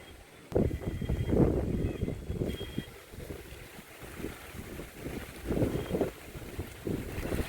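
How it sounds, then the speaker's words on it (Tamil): Strong gusting wind batters the microphone in a garden, roaring and buffeting in uneven surges for several seconds, with no other clear sounds over it. "காற்று எங்கே பலமாக வீசுது பாருங்க, வேகமாக அடிக்குது காற்று"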